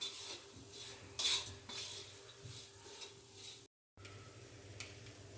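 A spicy green chilli mixture seasoned with salt is stirred and sautéed in a pan, giving soft repeated spoon scrapes and clinks over a faint sizzle, with a brief silent gap near the end.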